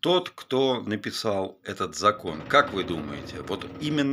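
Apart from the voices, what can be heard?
No everyday noises stand out.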